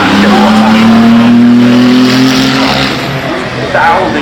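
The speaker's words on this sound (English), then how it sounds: "The McLaren P1 incredible." A McLaren P1 supercar runs at the Goodwood Festival of Speed, its engine note loud and close with a steady, slowly rising tone and some tyre noise, fading slightly toward the end.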